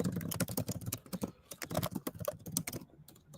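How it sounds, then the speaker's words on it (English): Rapid, irregular keystrokes on a computer keyboard, close and fairly quiet, typed in uneven bursts with brief pauses and no talking. "I'm typing something"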